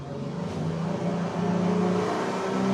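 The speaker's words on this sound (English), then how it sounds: "with these motors, the 350s, you do have a bit of a higher noise level on initial takeoff" Twin 350 outboard motors push a Quarken 35 Sport Tourer boat as it accelerates, a loud, close, steadily rising engine drone with low throbbing tones climbing in pitch over a few seconds.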